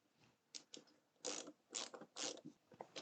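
Screw being driven into a part of a 1:2 scale Doctor Who Dalek model kit, giving short close ratcheting, creaking bursts in an irregular rhythm over about three seconds in a quiet room.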